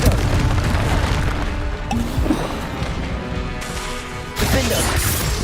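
Booming explosions and crashing impacts from Confringo fire spells cast in combat in Hogwarts Legacy, loud and dense throughout, with a fresh burst near the end.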